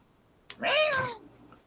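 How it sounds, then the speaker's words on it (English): One close, clear meow from a cat, brief and rising then falling, set against a quiet room with no voices. "He's a cat. That's what they do."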